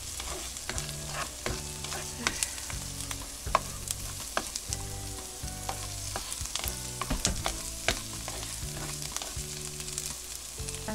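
Garlic fries in a pan with a constant sizzle, broken by repeated scraping and clacking stirs from a utensil, close up and without speech.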